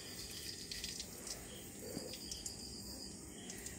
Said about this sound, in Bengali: আমাদের তেলটা গরম হয়ে গিয়েছে। এখন আমি এর মধ্যে বেগুনগুলো দিয়ে দিব।